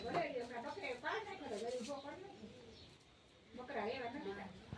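Soft, low pigeon cooing in rolling phrases, close by, pausing briefly before resuming.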